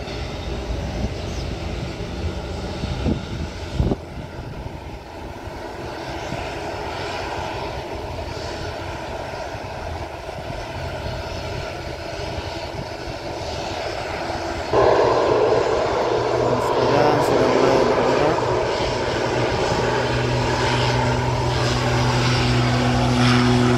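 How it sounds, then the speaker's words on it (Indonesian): An airplane rolls along the runway departing Sultan Hasanuddin International Airport in Makassar. The engine drone is loud and continuous and swells sharply about two-thirds of the way through as the aircraft powers up. "sudah di landas pacu, sudah mulai meninggalkan bandara"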